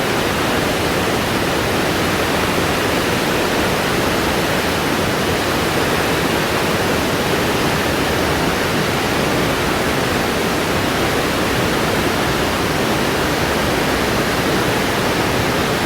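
Heavy monsoon waterfall roaring beside a living root bridge in Meghalaya, a dense, steady rush of falling water that stays loud and unbroken throughout, with no voices.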